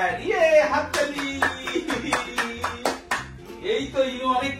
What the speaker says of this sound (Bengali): ইয়ে, হাততালি।